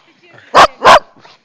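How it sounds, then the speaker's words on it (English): A dog barks twice in quick succession, loud and close, outdoors during a December snowstorm, with faint voices in the background. "stop barking, but go get her"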